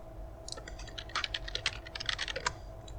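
Rapid keystrokes on a computer keyboard as a name is typed in, a quick run of close, crisp clicks in short bursts over a steady low background hum.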